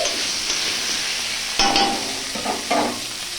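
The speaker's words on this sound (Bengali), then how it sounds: "গরম তেলে আমি আলু পটল ভেজে নিচ্ছি।" Potato and pointed gourd pieces fry in hot oil with a steady close sizzle, broken by a few louder scraping stirs in the pan.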